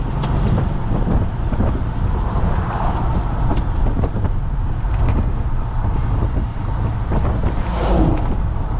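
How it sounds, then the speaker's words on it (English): A 1972 Chevelle convertible cruising at half throttle with a quiet exhaust, a steady low engine rumble mixed with rushing wind noise throughout. "That's why I say you can hear it's a quiet exhaust."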